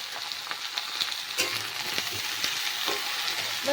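Mixed winter vegetables with green chili, salt and turmeric frying and being stirred in a pan, a steady close sizzle with scraping stir clicks throughout, no talking.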